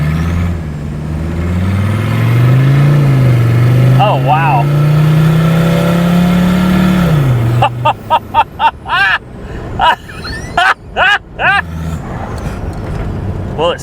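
A cheap Mercedes-Benz turbo diesel car with failing brakes drives on the road, its engine droning and rising steadily before the sound breaks into choppy rumbling; someone speaks briefly over it.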